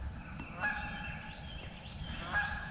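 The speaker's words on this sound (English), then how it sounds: "Hear those geese flying over" Two or three loud honks from geese flying overhead ring out over a low background rumble in a North Carolina creek bottom in spring, calling from some distance, with a short gap between the calls.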